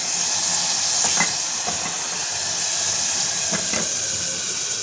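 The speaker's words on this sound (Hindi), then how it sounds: "अब मैं डालूँगी इसमें टमाटर" Tomatoes hit a hot pan and set off a loud, steady hiss of sizzling that carries unbroken for several seconds, with a few faint clicks of utensils close by.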